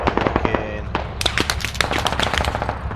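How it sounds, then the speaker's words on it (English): Rapid gunfire in the military shooter game Squad, dense overlapping shots crackling close and loud across the whole stretch, with a busier volley after the first second. "I'm being shot at."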